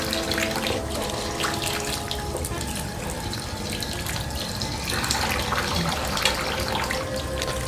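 Tap water runs steadily into a bathroom sink while airbrush parts, including the needle and nozzle, are washed under it; a continuous close splashing flow with no talking.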